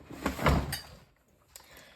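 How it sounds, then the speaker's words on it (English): A filled medication storage drawer slides shut with a soft rumbling push and a muffled bump, followed by a quieter faint knock a moment later. "my first drawer is now filled, and I can close it"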